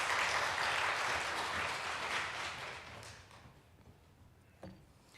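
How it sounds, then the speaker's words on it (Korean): A church congregation at a Sunday service claps in welcome as the pastor comes forward, a broad wash of applause that fades gradually, ending with a single soft knock. "나오실 때 우리 격려의 박수로 맞이하겠습니다"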